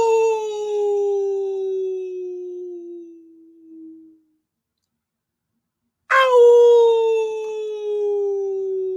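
A human voice imitates a coyote howl, a long sustained tone gliding slowly downward and fading out, then after a short silence a second howl starts abruptly at full strength and holds.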